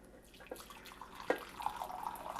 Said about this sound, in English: I'm going to get 16 ounces of my teapot water